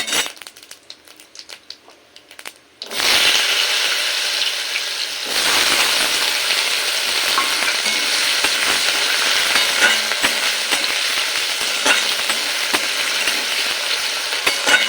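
Potato pieces frying with cumin seeds in hot oil for a Bengali fig (dumur) dish, starting as a quiet sizzle then jumping to a loud, steady crackling hiss after the potatoes drop in, with occasional stirring clinks.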